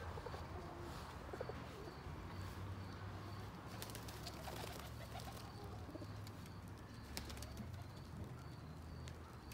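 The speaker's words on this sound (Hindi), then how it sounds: "ऊपर कबूतर भी बैठे हैं, अंदर भी होते हैं। ये कबूतर रखे हुए हैं इधर।" Pigeons kept in a hut at a home vegetable garden coo steadily throughout, soft and somewhat distant, with occasional chirps and wing flutters over a low constant background hum.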